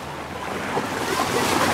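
Strong ocean waves at a beach resort, a rushing broadband wash of surf with wind buffeting the microphone, loud and continuous across a short stretch with no voices.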